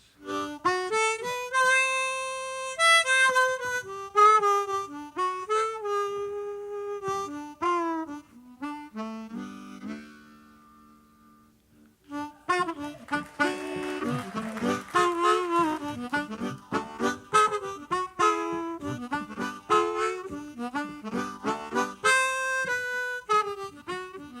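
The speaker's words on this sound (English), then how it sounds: "And the other is to play the blues," A harmonica plays a bluesy melody with held, bending notes and quick flurries, pausing briefly midway before picking up again with busier, rhythmic phrases.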